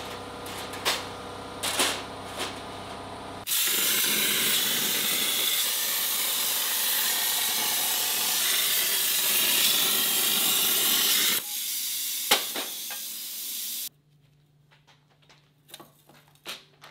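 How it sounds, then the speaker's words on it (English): A plasma cutter cuts steel for a raised shield, a loud steady hiss running for about eight seconds with a short second burst afterward, framed by clanks and shop noise. "Over to the plasma cutter, I say."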